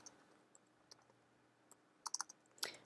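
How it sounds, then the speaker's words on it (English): Quiet, sparse keystrokes on a computer keyboard, with a few isolated clicks early on and then quick bursts of typing near the end, recorded close in a still room. "So I'm going to come in and I'm just going to type in,"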